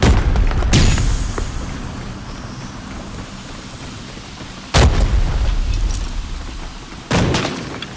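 In the Arena Breakout video game, thrown bombs explode as three loud booms spaced seconds apart. Each has a sharp onset and a rumbling tail, with no talk over them.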